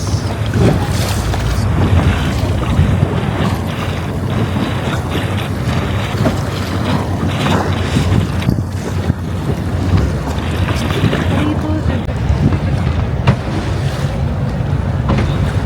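Gondola gliding along a canal in Venice, with a steady wash of water and wind rushing over the microphone, continuous and fairly loud throughout, with faint tonal sounds in the background.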